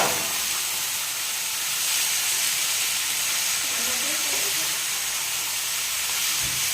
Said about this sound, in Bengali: সেই আলুগুলা তার উপরে দিয়ে দেব এবং নাড়তে থাকবো